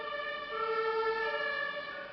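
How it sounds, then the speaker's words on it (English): An ambulance siren sounds outside a window, a steady wailing tone with strong harmonics that swells slightly and then eases, continuous and moderately loud through the glass. "I have an ambulance outside."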